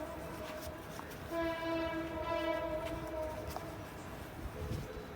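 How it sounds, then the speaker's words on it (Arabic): A train rumbles past at a distance, its horn sounding one sustained blast over the steady rolling noise, with no talking. "صوت القطر اللي هنتحرم منه بقى لما المترو يشتغل"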